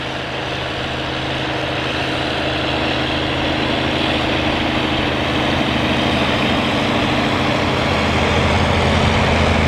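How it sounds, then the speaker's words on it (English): A tractor engine drones steadily and loudly throughout while plowing at a plow day, a continuous heavy low rumble with no pauses and no voices. "we can see it here working at a plow day in North Carolina with Mark McConnell"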